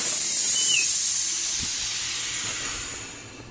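Devair 447 compressor pump on a 10 hp single-phase motor unloading with a steady, loud, close air hiss that slowly tapers over a few seconds.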